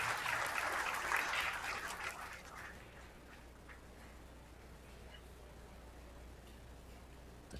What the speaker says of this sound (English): The crowd loving that all USA match over there.